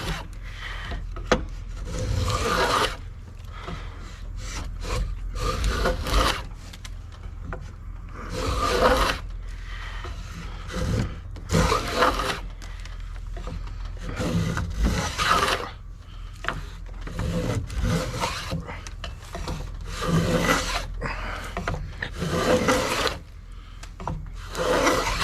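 Stanley Miller's Patent No 141 plane cutting a groove in wood, heard as repeated rasping strokes, each a second or two long, close and fairly loud, with short pauses between passes and no talking.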